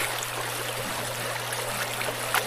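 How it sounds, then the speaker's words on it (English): Someone wading across a cold river in Canada: steady rushing stream water with a low hum beneath, faint splashes and a brief louder slosh near the end, no talk. "So, I'm just crossing this river."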